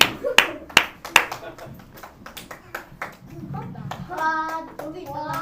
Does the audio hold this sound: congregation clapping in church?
yes